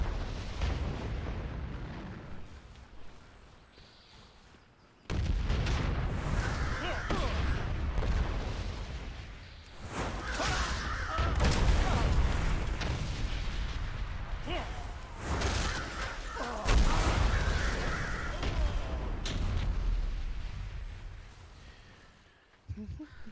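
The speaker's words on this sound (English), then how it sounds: "there's cannons up here" Cannons boom in World of Warcraft on Kul Tiras in Battle for Azeroth. Heavy, rumbling blasts come in several long surges that swell and fade one after another, with a voice talking faintly underneath at times.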